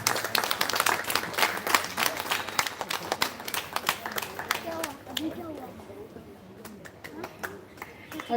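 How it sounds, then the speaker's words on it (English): A concert audience claps in a loud burst of applause that thins into scattered claps, with voices talking underneath. "Okay, please clap."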